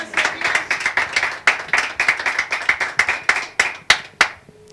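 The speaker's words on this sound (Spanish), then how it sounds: "Den un aplauso al Señor." Rhythmic clapping from a church congregation in unison during a sermon, steady repeated claps of many hands at an even pulse, slowing into a few final strong claps before stopping.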